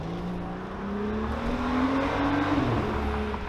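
A BMW 535i F10 with a muffler delete and a stage 1 tune accelerates in sport mode around town, heard from inside the car with the window open. The exhaust gives a steady rising drone that swells, then holds loud.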